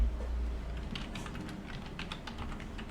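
Computer keyboard typing while names are entered into an Excel spreadsheet, a quick irregular run of close key clicks over a steady low hum, with no speech.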